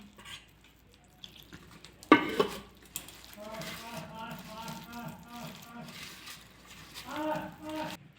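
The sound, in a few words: hand-mixing fish chop mixture in a bowl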